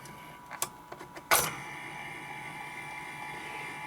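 A Telefunken 504 turntable motor from a stereo console runs quietly as a steady, faint, even hum, preceded by a few brief clicks and a short louder burst as it is switched on.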